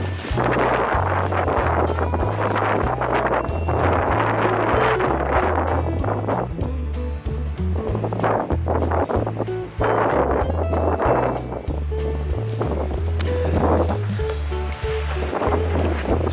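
Strong wind of about 50 miles an hour buffets the microphone outdoors near a tarp-covered woodpile, giving a loud, continuous roar with deep rumbling gusts throughout.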